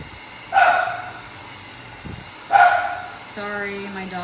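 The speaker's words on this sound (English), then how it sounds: "Sorry, my dogs are barking." Two short bursts of dog barking, roughly two seconds apart, heard at moderate distance over a quiet room hum, followed by a brief tonal whine.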